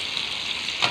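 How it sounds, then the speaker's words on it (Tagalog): Chopped onion sautéing in a pan alongside already-fried hotdogs for a hotdog-and-egg breakfast, a steady close sizzle with a slight stirring scrape at the end. "Igigisa-gisa mo dito sa tabi."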